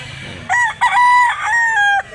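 A single rooster crows loudly up close, a brief sharp rise then a long drawn-out cry, over faint background murmur.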